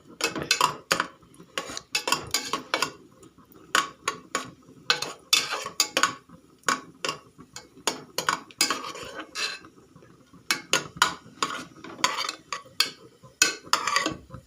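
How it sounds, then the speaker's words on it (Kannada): Raisins fry in ghee in a pan on low flame while a metal spoon stirs and scrapes, giving repeated close clinks and scrapes in uneven bursts with short pauses between. "ಈ ಒಣ ದ್ರಾಕ್ಷಿಯನ್ನು ಸಹ ಅದೇ ರೀತಿ ಕೆಂಪಿಗೆ ಹುರಿಯುತ್ತೇನೆ ಲೋ ಫ್ಲೇಮ್ ಇಟ್ಟು ಹುರಿಯಬೇಕು"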